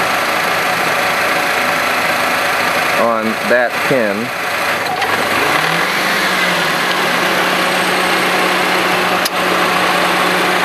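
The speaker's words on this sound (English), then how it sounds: "clutch pulls in and then drops out and the engine fan comes on." A 2007 Honda Civic engine idles steadily as the A/C compressor clutch pulls in and drops out and the engine fan comes on, a faulty compressor relay at fault; someone talks briefly over the constant engine drone.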